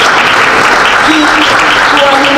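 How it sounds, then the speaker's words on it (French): Steady applause from a crowd at a press conference in a city hall, dense clapping filling the whole moment, with faint voices mixed in underneath. "je les applaudis"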